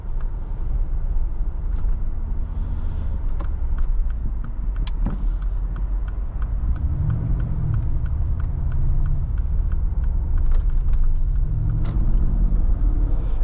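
Cabin rumble from a Mercedes G63 wagon with a 5.5 liter twin-turbo V8 on the road: a steady low drone with faint ticking and clicks above it, and no talk.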